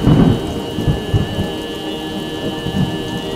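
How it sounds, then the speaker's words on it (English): Heavy rain pours down steadily in Kandy, Sri Lanka, with low rumbles of thunder rolling in the background. "this rain is like really starting to come down"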